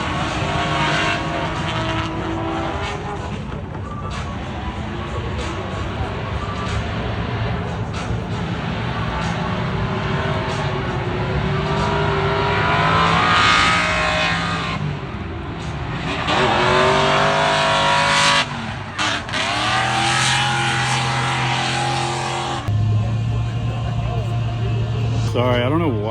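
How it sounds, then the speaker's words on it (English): Several cars drift with revving engines, giving a loud, continuous engine roar with rising and falling pitch sweeps and tire noise throughout. A person talks over it at times. "Drift session time."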